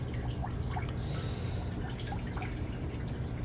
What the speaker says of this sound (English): right now I'm refilling my salt water bin, again putting it through that sock filter.